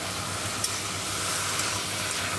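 Potatoes and spices sauté in a pan, giving a steady close sizzle and hiss with faint stirring scrapes, no voices.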